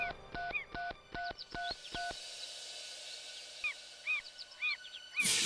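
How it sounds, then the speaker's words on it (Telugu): A phone number is keyed in as a quick run of about eight clear tones, followed by a faint hum of the line and several faint chirping call tones, ending with an abrupt burst of noise. "మళ్ళీ ఓసారి ఆ నంబర్కి ట్రై చేద్దాం"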